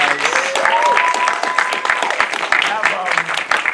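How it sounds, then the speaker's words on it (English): A film Q&A audience breaks into loud, dense applause, steady clapping filling the room while voices call out over it. "let's have another round of applause."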